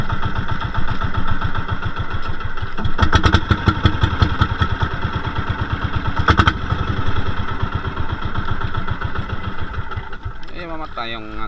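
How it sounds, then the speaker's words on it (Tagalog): Fishing boat engine idling loudly up close with a steady pulsing chug, a couple of brief clattering bursts, then sputtering toward a stall near the end, with no voices over it. "Mamatay yung ating makina mga lodi."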